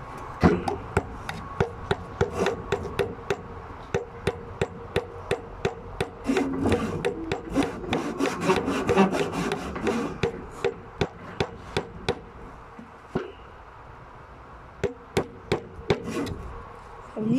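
Sharp, repeated hammer blows drive nails into wood while building a boat, evenly spaced strikes that run in steady bursts with brief pauses between them, close by and fairly loud.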